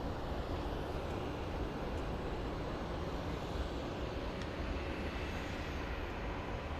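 Jet airliner with GE engines at Phoenix Sky Harbor airport, a steady distant broadband roar holding at an even, fairly faint level throughout, with no talk.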